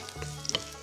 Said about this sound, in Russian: Я его тут просто по сковороде немножечко так погоняю, чтобы он не пригорел.